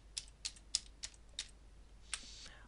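Keys tapped on a computer keyboard, six or so crisp, separate clicks spaced evenly, then a slightly longer keystroke with a soft rattle, close and clear against a quiet background.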